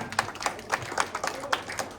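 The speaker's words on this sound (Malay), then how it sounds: "Beri tepukan." Audience applause at a talk on an e-hailing app ecosystem, a few light, sparse claps spaced out over a couple of seconds, faint and fairly distant.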